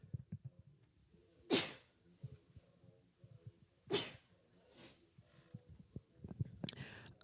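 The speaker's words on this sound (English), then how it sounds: "Oh my gosh, I have to sneeze." A woman sneezes twice, sharp bursty exhalations a couple of seconds apart, close to the microphone, among soft breathing, small clicks and rustles, with another sharp burst near the end.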